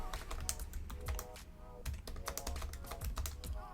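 A computer keyboard clatters with rapid, close keystrokes, steady and continuous, with a brief lull midway before the quick typing resumes.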